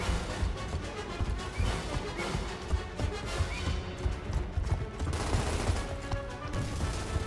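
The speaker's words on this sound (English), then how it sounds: "What are you shooting at?" Gunfire in Gears of War Ultimate Edition, a steady clatter of rapid shots and impacts layered over a constant rumbling battle din, with no pauses throughout.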